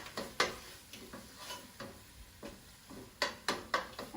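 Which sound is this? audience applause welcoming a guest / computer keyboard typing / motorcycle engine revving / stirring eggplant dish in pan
stirring eggplant dish in pan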